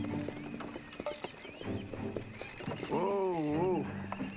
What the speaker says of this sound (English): You unhitch the horses, Samuel.